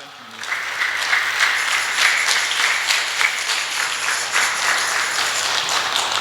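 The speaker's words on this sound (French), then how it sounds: "On acclame." A church congregation bursts into sustained applause, dense and even clapping from many hands that carries on steadily for several seconds in a reverberant hall.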